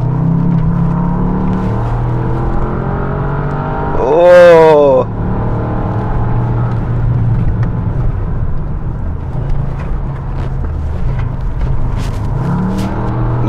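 A 2023 Bentley S driven hard on the Goodwood course, its engine a steady loud drone throughout with a brief rising rev burst in the middle, accompanied by faint background voices.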